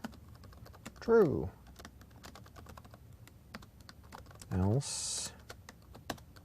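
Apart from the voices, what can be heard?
typing on a laptop keyboard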